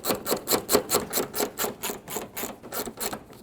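A bolt on a radiator bracket of a 2009-2014 Ford F-150 being tightened, a steady series of rhythmic ratcheting clicks, close and moderately loud, with no voices.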